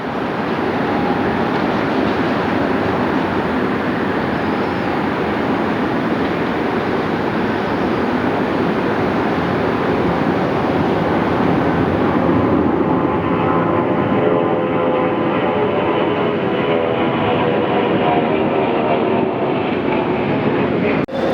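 An airliner passes near Phoenix Sky Harbor airport in hot weather, a loud, continuous broadband engine roar that holds steady for about twenty seconds, with no one talking.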